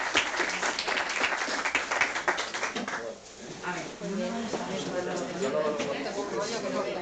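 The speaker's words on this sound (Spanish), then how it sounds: "Yo tengo un aplauso para Mercè" Applause for a speaker named Mercè at the close of a session, a dense wash of clapping that thins midway, with voices talking over it and continuing after.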